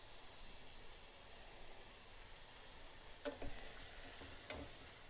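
Onions fry in a pan on the stove, a soft steady sizzle with a couple of faint clatters of stirring, quiet and close.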